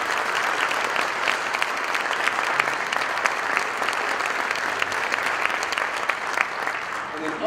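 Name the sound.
applause for All-State band students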